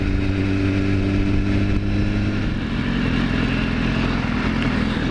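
A 2015 BMW S1000RR is ridden on the road, its engine droning steadily before the note drops into a rougher, lower roar partway through, heard up close under wind rush.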